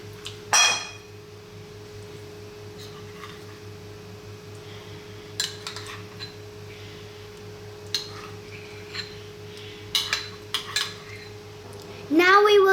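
A young child mixes egg mayonnaise in a bowl, with sparse scattered clinks and taps of a utensil against the dish over a steady hum, and a voice briefly at the end.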